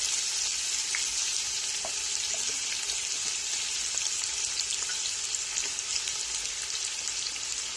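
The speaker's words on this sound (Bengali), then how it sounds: "আমি একটু ভেজে নিচ্ছি পেঁয়াজটা।" Three cups of onions fry in about one and a half cups of oil for chicken biryani, giving a steady, close hiss of sizzling with faint occasional clinks and stirring sounds throughout.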